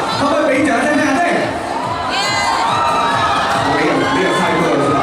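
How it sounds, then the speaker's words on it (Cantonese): A crowd of fans at a celebrity fan event cheers and shouts loudly and continuously, with excited high-pitched voices and whoops rising over a steady roar. "可唔可以俾掌聲聽下先？"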